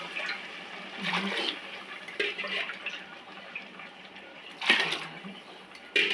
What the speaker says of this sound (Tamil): இப்போ 6 டம்ளர் தண்ணி ஊற்றிக்கலாம்